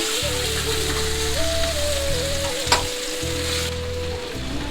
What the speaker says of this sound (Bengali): তো দেখুন আমার মাছ ভর্তার মাছ ভাজা হয়ে গেছে